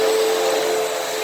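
A Hoover WindTunnel vacuum cleaner runs steadily, a loud close-up whining roar with a sustained tone as it sucks up dirt and bugs, with no talking.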